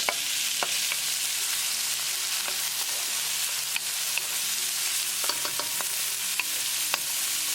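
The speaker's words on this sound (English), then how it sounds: "Keep mixing and keep cooking until they are nicely translucent." Onions fry with ginger and garlic in a pan for a chicken drumstick curry, a steady bright sizzle punctuated by sharp clicks of a utensil stirring against the pan, with no talking.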